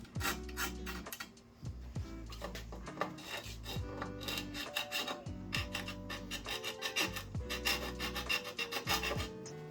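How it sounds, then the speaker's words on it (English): A small hand file rasping metal holes into notches on a table saw wing, with steady back-and-forth strokes, close and continuous, interleaved with faint tonal ringing. "Then I can grab my little file and bring those holes all the way down"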